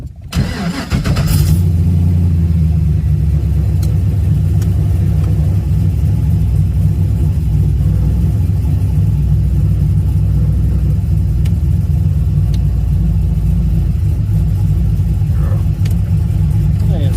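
A car fitted with a Nissan CD009 transmission on a test drive, its engine starting with a brief burst and then running steadily with a loud, close, low drone and no clear talk.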